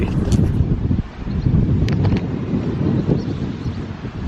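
Strong wind on a blustery day buffets the microphone in a loud, constant low roar with gusting swells and no break.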